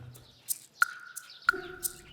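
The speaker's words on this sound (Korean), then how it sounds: "저 끝에는 참새들이 있는 것 같아요, 참새." Sparrows chirp in a Korean residential alley, with short, sharp, high tweets scattered irregularly over a quiet background and a few brief clicks in between.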